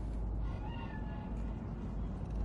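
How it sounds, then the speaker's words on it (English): A cat meows faintly in a video game, a soft, drawn-out call over a steady low rumble of game ambience. "Do you see it? The cat? Fine-looking feline."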